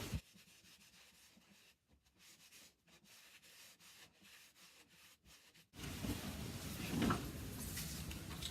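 A cloth rubs and wipes silicone oil off a chalk-painted surface, with steady scrubbing strokes close to the mic. The rubbing grows louder and harsher toward the end.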